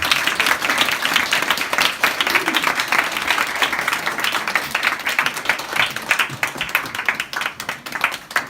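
A live audience at a Christmas a cappella concert in a bar claps warmly to welcome the first group, a continuous, dense round of applause from many hands, loud and sustained across the whole stretch.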